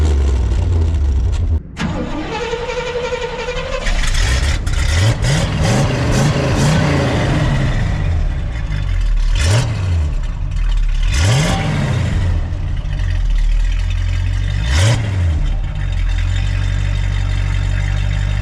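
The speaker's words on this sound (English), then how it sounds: "now we're gonna do an exhaust test of which one sounds better" A pickup truck engine, a 1970 Chevrolet C10 or an OBS truck, cranks and starts, then revs repeatedly in several loud bursts before settling back to a rumbling idle, close by.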